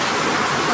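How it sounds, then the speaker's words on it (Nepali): Heavy rain pouring down in a dense, steady wash of hiss that stays loud and even throughout the short stretch, with no voices over it. "यस्तो ठुलो पानी परिरहेको छ"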